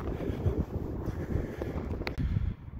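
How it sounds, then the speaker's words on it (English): Wind on a mountain day hike in Rocky Mountain National Park, Colorado, buffeting the microphone as a steady loud rumble with gusty surges, no talk. "It's a little cloudy and a little windy"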